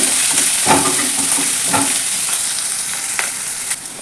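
Chopped carrots sizzle and fry in a pan for upma, a steady bright hiss broken by a few soft stirring scrapes, close and alone with no talk.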